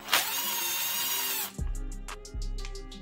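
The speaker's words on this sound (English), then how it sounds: "So we'll go ahead and buzz these coils out." A power tool buzzes out 10mm ignition coil bolts on an engine during a Magnum cam and head swap, whirring loudly at first, then ratcheting in two short pulsing bursts.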